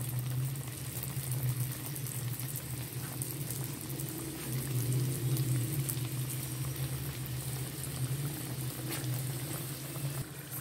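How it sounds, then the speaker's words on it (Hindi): Mini aloo samosas bubble in hot ghee, a dense continuous crackling sizzle at an even, moderate level for the whole stretch, with no voices. "घी अच्छे से मेल्ट हो गया और गर्म हो गया है। बिस्मिल्लाहिर्रहमानिर्रहीम, समोसे फ्राई करेंगे।"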